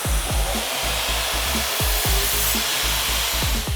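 Continuous harsh whirring of a power sander on wood, steady and loud, with repeated low thumps as it shifts against the surface.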